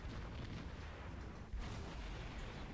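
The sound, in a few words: ship's guns firing in the video game World of Warships, USS St. Louis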